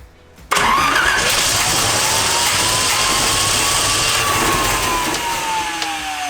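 A car engine is cranked and catches, a sudden loud start after a brief quiet moment, then a steady, close, full-throated roar that holds to the end with no talk over it.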